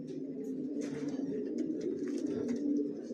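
Pigeons cooing in a loft where racing pigeons and their young are kept, soft low repeated coos layered over one another, fairly close and continuous, with no talk.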